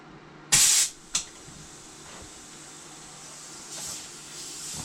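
Compressed air hisses in a loud, sharp burst from a cheap old hose fitting on a Craftsman V20 air compressor. A second short spurt follows, then a fainter steady leak continues.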